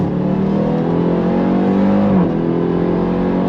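A 2024 Dodge Durango Hellcat Black Edition SUV, all-wheel drive, accelerates hard on throttle, giving a loud, steady engine roar that climbs in pitch and then briefly dips before rising again.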